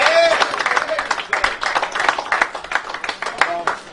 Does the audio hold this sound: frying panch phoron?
no